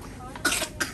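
Sharp coughing bursts, a couple of close harsh coughs from a person in a Halloween trick-or-treat outing, with faint background sound and no clear speech.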